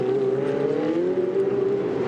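A Ferrari Challenge race car's engine at Le Castellet circuit, a loud sustained high whine holding a steady pitch with slight rises, heard close and continuous for about two seconds.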